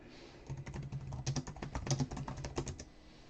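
Fingers type on a computer keyboard in a quick, uneven run of close, crisp key clicks lasting about three seconds, with no talk.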